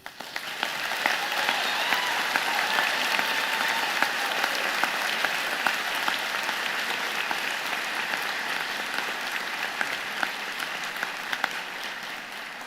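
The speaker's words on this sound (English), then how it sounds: "And I would ask you to join me and the platform party in thanking them with a vigorous" A large convocation audience claps vigorously in sustained applause, a dense and steady roar of many hands that fills the hall and continues unbroken without speech.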